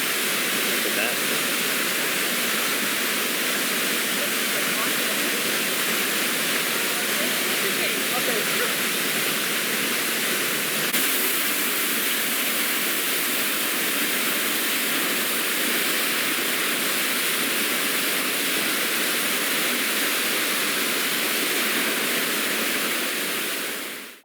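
A thundering waterfall in Iceland gives a constant, dense roar of rushing water that stays even and loud throughout, with no break in the noise.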